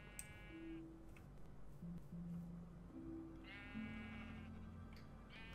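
Several sheep in the video game Minecraft bleat in turn, short wavering calls spaced through the clip, some overlapping, heard against a quiet background.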